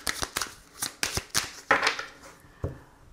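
Oracle cards being shuffled and cut, a run of quick, crisp riffling flutters and soft slaps close up, fairly quiet, with a few separate bursts and no talking.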